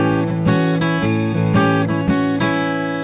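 On acoustic guitar, a blues melody rings out over a held chord, with plucked notes moving in a steady rhythm above sustained lower strings; close and moderately loud, no talking.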